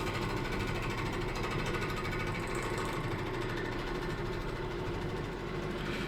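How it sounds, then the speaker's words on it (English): A wood lathe spins an apple log while a roughing gouge shapes it for a vase. A loud, continuous motor drone runs steadily throughout, mixed with the even rush of the cut, with no speech. "I actually had a really fun time using this roughing gouge."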